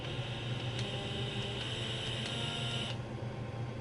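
An Ewilibe blackhead remover vacuum runs with a steady, high-pitched motor whine and hiss that holds level for about three seconds, then cuts off abruptly, leaving faint background noise.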